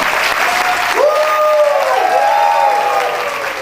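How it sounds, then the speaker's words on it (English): An audience at a startup bootcamp event in Dhaka bursts into loud, sustained applause with whoops and cheers rising over the clapping. "Clap to me. Woo!"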